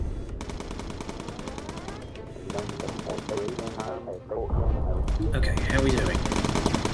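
Machine gun fire in the Bomber Crew video game: rapid rattling bursts from the bomber's gun turrets, loud and continuous, with a brief lull before heavier firing resumes, while a player speaks.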